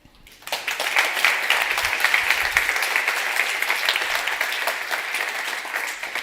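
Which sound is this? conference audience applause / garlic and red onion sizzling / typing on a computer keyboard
conference audience applause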